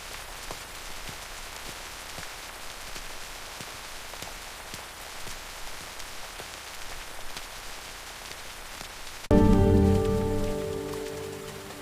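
Steady rain falls as a grandfather and grandson walk outdoors, a dense even hiss with scattered drop ticks for most of the stretch before a louder tonal sound abruptly takes over near the end.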